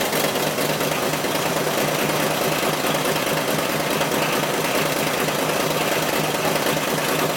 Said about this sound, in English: Fire it up. Let's hear them horsepowers.